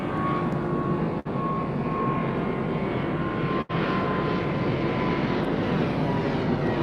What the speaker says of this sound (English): there's a plane somewhere over me